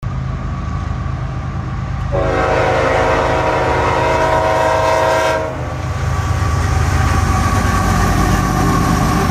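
A newer Nathan K5HLB train horn sounds one long, loud, steady chord for a few seconds over the rumble and rolling clatter of a passing train.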